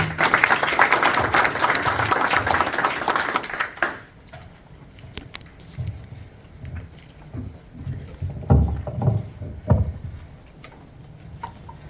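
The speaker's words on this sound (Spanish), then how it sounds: "Un aplauso, por favor." An audience at a book launch applauds with a dense burst of clapping that lasts about four seconds, then trails off into scattered claps and room murmur.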